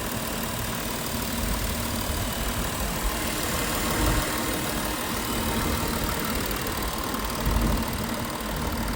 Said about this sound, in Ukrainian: Під капотом нічого не мито, двигун працює тихо